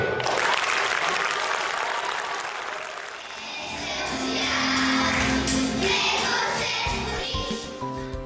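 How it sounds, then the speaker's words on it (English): Warm applause from a school concert audience after a children's dance performance, a dense, steady clapping that swells and carries on throughout, with faint crowd murmur underneath. "their performances at the school's concerts are always warmly applauded by the audience"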